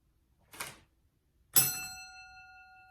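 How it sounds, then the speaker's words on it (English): A small desk-style teacher's bell struck twice: a short dull first tap, then a bright ring about a second later that sustains with clear ringing tones and slowly fades, close and fairly quiet. "Teacher bell."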